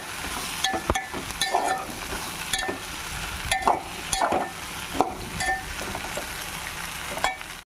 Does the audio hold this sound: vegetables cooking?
yes